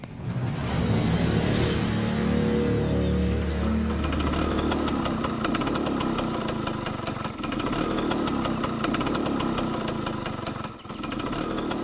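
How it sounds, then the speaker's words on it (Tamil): Vehicle engine running and revving, a steady mid-pitched motor drone after an initial rough start, loud and continuous with slight dips in throttle. "இப்ப எதுக்கு வண்டியை ஸ்டார்ட் பண்ணிட்டு முறுக்குன்னு முறுக்கிட்டு கிடக்க?"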